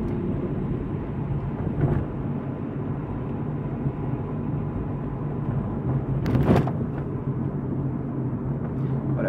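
A car drives along in third gear after an upshift, its engine and road noise forming a steady, close rumble that swells briefly about two-thirds of the way through.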